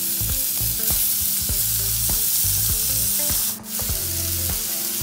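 Onion and garlic frying together in a pan for veg burritos, a steady loud sizzle holding throughout with a faint background music bed and a brief hiss near the end.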